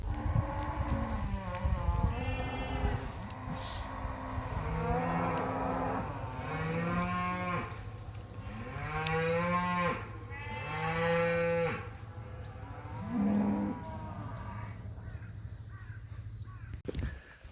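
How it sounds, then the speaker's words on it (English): Cattle low repeatedly along the Wicklow Way, several drawn-out moos in a row at moderate distance over a steady outdoor background. "those cows were running, just behind me actually"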